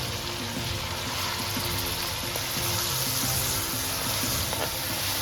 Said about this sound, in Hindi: चिकन को आप इसमें गोल्डन करें अच्छे से।